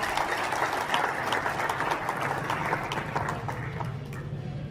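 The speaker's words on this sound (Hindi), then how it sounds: "जोरदार तालियों से।" An audience at a Rajasthani Brahmin community Diwali gathering claps in sustained applause, a dense, even roar of hands at moderate distance.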